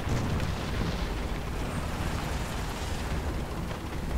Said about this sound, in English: Oh, here comes the main barrage.